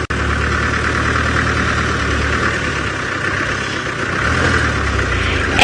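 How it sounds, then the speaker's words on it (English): A tractor engine on an early-morning safari drive, a steady low rumble with a chugging, knocking character that grows slightly louder toward the end as the machine draws nearer. "Tractor's getting closer."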